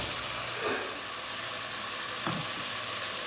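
Spice paste for a Katla fish head curry sizzles and fries steadily in oil, with two scraping stir strokes from a spoon in the pan, close and moderately loud with no talking.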